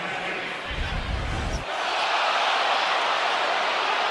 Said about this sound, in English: You just heard the crowd reaction.